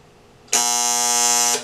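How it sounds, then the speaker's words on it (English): A darkroom enlarger timer buzzer goes off with a loud, steady electric buzz that starts abruptly and holds for about a second before cutting out. "That buzzer stays on until you turn this switch off."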